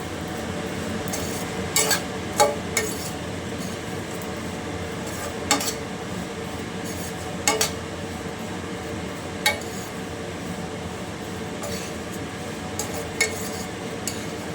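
Vermicelli being dry-roasted in a pan for semiya kesari, with a utensil scraping and clinking against the metal in scattered strokes over a steady background hiss.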